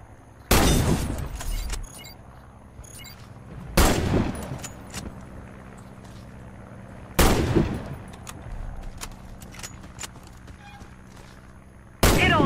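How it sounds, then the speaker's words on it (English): Sniper rifle gunfire in an online shooter game: four loud, sharp single shots spaced about three to four seconds apart, each with a ringing echo tail over quiet game ambience. "Hit all the targets with your sniper rifle."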